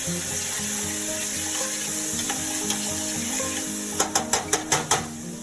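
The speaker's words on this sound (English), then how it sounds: "As we start to cook a little bit, we sweat the garlic." Garlic and gremolata sweating in a pan for classic osso buco, a soft, continuous sizzle with stirring, then a quick run of sharp clacks from a utensil tapping the pan near the end.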